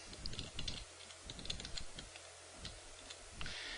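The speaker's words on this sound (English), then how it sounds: "and then I'll just type in the password for that account" A password tapped out on a computer keyboard, a quick irregular run of light plastic key clicks, close and fairly quiet, with short pauses between bursts.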